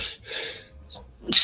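A single sneeze bursts out near the end of a short, quiet stretch, preceded by a faint breathy intake, close and fairly loud against low room noise.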